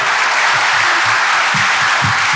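A crowd at a university closing ceremony claps steadily, a dense, even patter of applause filling the room.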